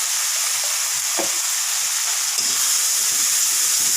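Bata fish pieces fry in a pan with turmeric and chili powder being stirred in, producing a loud, steady, close-up hiss of sizzling oil with faint stirring knocks underneath.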